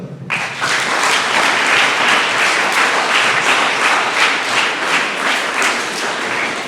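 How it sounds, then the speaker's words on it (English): A school audience of 10th class students and guests claps for students at a science outreach event in Kamareddy, a dense, steady burst of applause lasting several seconds, fairly loud and filling the room. "Give a big clap for them."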